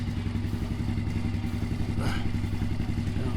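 A Polaris Outlaw 90 ATV engine idles steadily close by, a constant low mechanical drone with a brief clattering burst about two seconds in.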